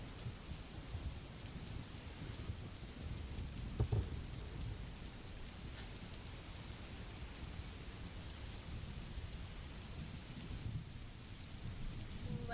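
Steady heavy rain pours through a thunderstorm, with a sharp crack of thunder near the four-second mark and low rumbles rolling underneath, the downpour holding constant throughout with no voices.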